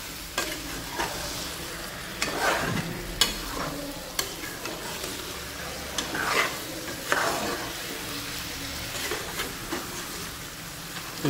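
Mutton pieces sizzle loudly in a pot over high flame while a spoon stirs and scrapes through them, the frying steady with irregular clatters of metal against the pan, no talking.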